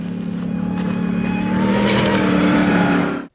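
Exhaust of a RAM 1500 TRX pickup, a loud, deep burbling roar that swells over a few seconds and cuts off abruptly at the end, heard alone.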